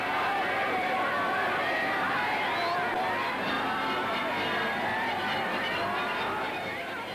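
Huge crowds celebrating VE Day in London, a dense wash of cheering, chatter and babble from many people at once, steady and continuous, with a narrating voice over it.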